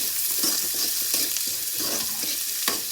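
Onions frying with mustard seeds and curry leaves hiss steadily in a hot pan while a spoon stirs them, scraping in an irregular rhythm under the constant close sizzle, with no talking.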